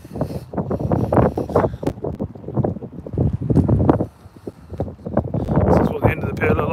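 Wind gusts buffet the microphone at Gorleston pier with a rough, uneven roar that swells and drops, loud and close throughout.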